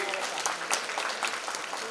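An audience at a Telangana cultural gathering in America claps loudly and continuously, a dense burst of many hands.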